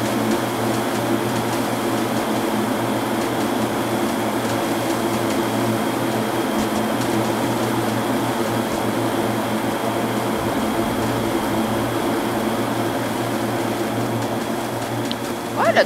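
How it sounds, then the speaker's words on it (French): A lawnmower engine from a 7 Days to Die-style video game drones steadily and continuously, a constant mechanical hum with a brief sharper noise at the end. "Ça a jamais été aussi drôle de passer la tondeuse."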